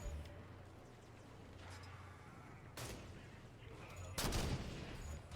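Gunfire from the video game Halo 5: Guardians, two sharp shots spaced a second or so apart over a low droning game ambience, fairly quiet and unaccompanied by talk.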